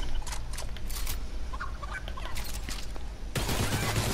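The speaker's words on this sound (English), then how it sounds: "Oh, it's a chicken." A chicken clucks and squawks in bursts inside a video game, over a busy game soundscape with scattered effects, ending in a louder rush of noise.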